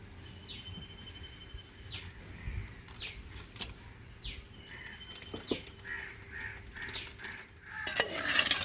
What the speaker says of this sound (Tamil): இப்போ கறியை இறக்கி வச்சுட்டு குழம்பு வைக்க சட்டி அடுப்பில் வச்சுக்கணும்